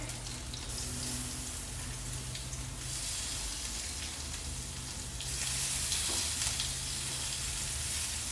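Shrimp sizzling in a pan of olive oil with garlic over slightly lowered heat, a steady close hiss and crackle that swells louder toward the end, with no talking.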